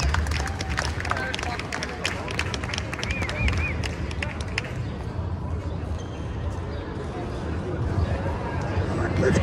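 Scattered clapping from a small audience at a women's volleyball final, a thin, patchy patter over hubbub and nearby talking that tapers off midway.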